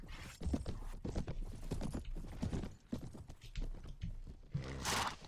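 Horse hooves in the video game Mount and Blade: Full Invasion 2, a quick rhythmic clip-clop of galloping steps close by with a whinny near the end, under faint battle noise.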